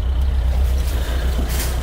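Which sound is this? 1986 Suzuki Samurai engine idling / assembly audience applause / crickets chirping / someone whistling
1986 Suzuki Samurai engine idling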